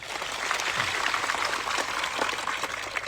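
Crowd of thousands clapping together at a Save Aravalli rally, a dense, steady wash of applause that stays loud and even for about three seconds.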